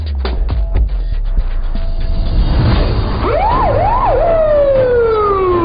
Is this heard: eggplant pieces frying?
no